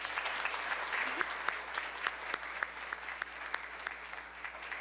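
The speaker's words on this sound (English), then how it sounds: "Let's give them a round of applause for that." Audience at a disability employment awareness celebration applauds steadily, a dense wash of many hands clapping with a few sharper claps standing out, fairly distant and soft.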